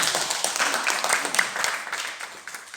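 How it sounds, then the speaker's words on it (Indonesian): Moderate audience applause at a spoken talk, a steady patter of many hands clapping that stays at an even level and thins slightly toward the end. "silakan tepuk tangan"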